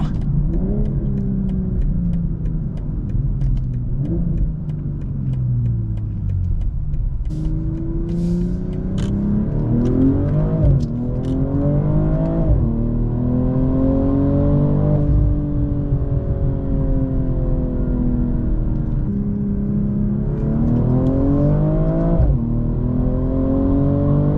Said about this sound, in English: Got some burbles now.